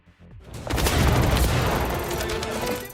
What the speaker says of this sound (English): If not, the bullets start flying.